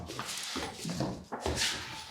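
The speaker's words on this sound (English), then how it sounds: "The dog will be howling all night again." A chained dog howls as a stage sound effect during a theatre performance, a series of drawn-out whining, yelping dog cries rising and falling in several bursts, fairly close and alone.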